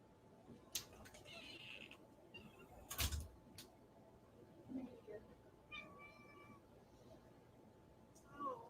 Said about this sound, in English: I gotta let my cat outside.